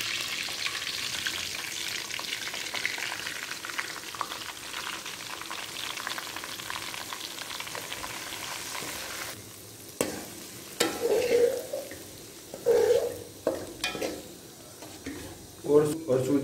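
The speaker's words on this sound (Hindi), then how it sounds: "सूजी को घी में अच्छी तरह भून लेना है कि जब तक ये गोल्डन ब्राउन ना हो जाए" Semolina roasting in hot ghee for suji halwa, a soft continuous sizzle at first, then intermittent scraping stirs in the pan; a voice talks over parts of it.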